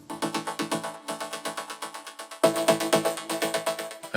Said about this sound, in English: And with the vocoder and everything else,